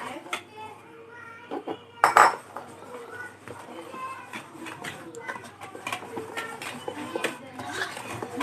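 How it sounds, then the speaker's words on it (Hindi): Semolina is stirred into batter in a bowl, with a spoon clinking and scraping the sides in a busy rhythm while a person speaks over it. "अब हम रवा इसमें ऐड करेंगे। इस तरह से इसमें हमें मिक्स करना है थोड़ा थोड़ा।"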